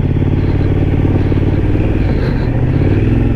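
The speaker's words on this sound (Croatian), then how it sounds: "Sad ćemo vidjeti kakav je motor malo po makadamu." A 2014 Suzuki V-Strom 1000 rides over a gravel road, its engine a loud, steady drone with a rough pulsing rumble and clatter from the loose surface, heard close up throughout.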